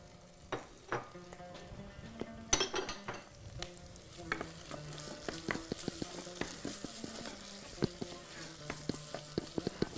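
Cubed chicken breast sizzling in a pot while being stirred, steady frying crackle with scattered utensil clinks and scrapes, close and moderately quiet, no voices.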